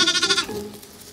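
An orphaned baby lamb lets out one close, loud, wavering bleat that fades into quiet room sound.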